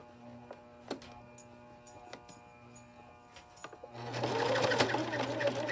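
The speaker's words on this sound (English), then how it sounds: "I'm just going to finish sewing this along here" Sewing machine stitching the lining seam of an 18-inch doll's watermelon sun dress, faint intermittent ticks at first, then a steady close-up run of continuous stitching in the second half.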